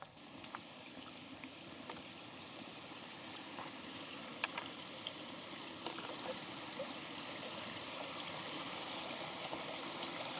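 A small creek on a mountain trek in Norway flows steadily as a soft, continuous rushing murmur, faint and somewhat distant, with a few light ticks over it and no talk.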